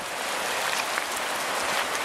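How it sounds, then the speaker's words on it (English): Steady heavy rain hisses without pause, a dense wash of falling water with nothing else standing out. "Pouring with rain."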